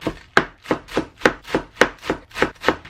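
A knife chops garlic chives for dumplings on a board in a steady rhythm, about nine crisp, close strokes evenly spaced, with no voices.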